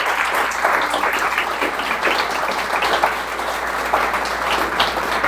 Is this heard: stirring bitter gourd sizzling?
no